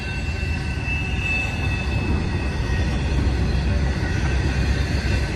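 A freight train rolls past close by in a loud, steady roar. It mixes auto rack and stack cars, and a high wheel squeal runs over the constant rumble of the cars.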